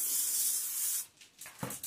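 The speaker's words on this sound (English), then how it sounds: "I'm going to take some spray. It says lightly grease your" Cooking spray hisses out of a can onto the inside of a plastic bowl for about a second, a steady close spray, followed by a few short, softer bursts and faint handling noise.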